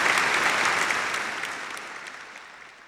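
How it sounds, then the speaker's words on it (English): A crowd claps loudly in a dense burst of applause that gradually fades away. "that actually deserves applause. That deserves applause."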